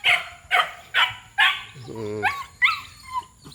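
Several dogs bark in a quick run of sharp, close barks, with a short whine or whimper in the middle, loud and clear.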